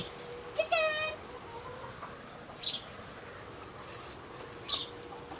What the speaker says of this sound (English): We'll feed the chickens from the door, I think, today.